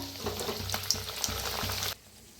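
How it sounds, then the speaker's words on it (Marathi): Methi puris fry in hot oil, a busy crackling sizzle with soft bubbling pulses that runs steadily for about two seconds and then cuts off sharply. "आता सगळ्या पुऱ्या अशाच तळून घेऊया"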